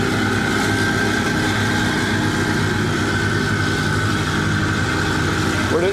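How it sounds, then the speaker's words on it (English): A twin-turbocharged Corvette Z06 idles at a Corvette show at Carlisle, a steady, rumbling, continuous engine drone held close and fairly loud for several seconds, with background crowd noise. "That car sounds amazing. It's incredible that we have a Z06 with twin turbos and it sounds like that."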